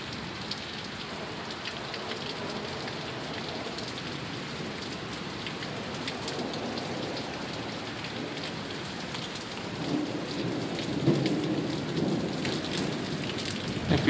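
Heavy downpour in foggy, humid Sioux Falls, steady dense rain hissing on surfaces throughout, with distant thunder rumbling low and swelling louder near the end.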